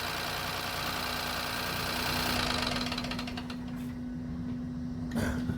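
A Ford Fiesta 1.0 EcoBoost engine idles with zero oil pressure, a steady mechanical drone with a constant low hum, then it is switched off and the sound fades, with a brief clunk near the end.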